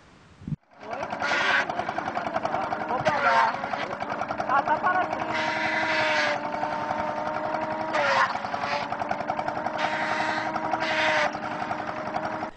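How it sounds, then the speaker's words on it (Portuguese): A sisal grinding motor rattles and drones steadily as it shreds sisal leaves into fibre, a loud rapid mechanical chatter with a constant hum and periodic harsher surges, while someone speaks over it. "O temido motor de moer sisal mastiga ferozmente a palma, que se torna a fibra."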